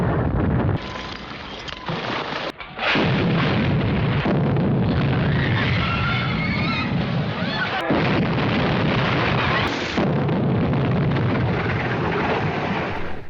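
Explosions boom during a film's Titanic sinking scene, heavy blasts and sharp bursts over a dense, roaring wash of rushing water and wind-like noise, loud and continuous for most of the stretch.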